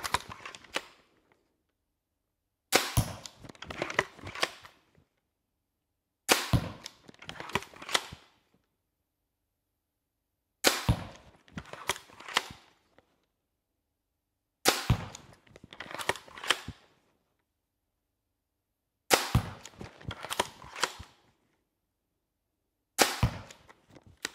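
A Steambow M10 Tactical magazine-fed crossbow fires repeatedly, each burst a sharp snap followed by clattering mechanical rattles, spaced several seconds apart with silence between, close and loud.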